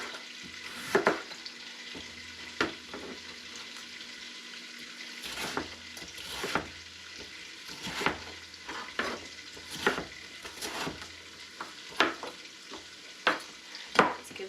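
A spoon stirs a pot of clam chowder, soft scraping and sloshing with several sharp clinks against the pot at irregular intervals, fairly quiet.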